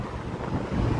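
Steady wind gusting at night along Broad Street in Philadelphia, a continuous low rushing roar buffeting the microphone with no voices.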